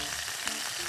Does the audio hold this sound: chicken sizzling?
yes